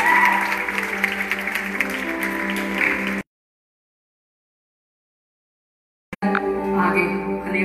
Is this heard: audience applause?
yes